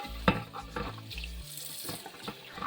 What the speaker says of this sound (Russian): Сейчас сполосну форму под водой,